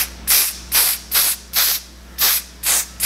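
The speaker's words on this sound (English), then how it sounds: "We're just gonna spray this little spray right here on the hairline." Lace melting spray misted onto a wig hairline, seven short sharp hissing bursts in a fairly even rhythm, close and loud with brief pauses between them.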